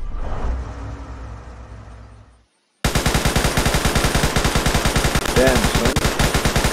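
A machine gun turret in a WW2 eastern front video game mod fires a loud, rapid, steady stream of shots for several seconds after a brief silence, and a voice speaks over the fire.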